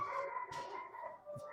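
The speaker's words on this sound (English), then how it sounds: "you gotta forgive the dogs barking" Faint dogs bark and howl in the distance, a thin wavering cry broken by a few short yips, quiet against a low background.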